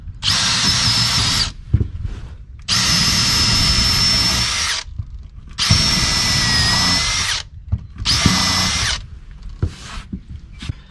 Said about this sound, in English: I'm just gonna drill another giant hole in the deck